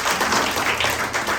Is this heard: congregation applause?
yes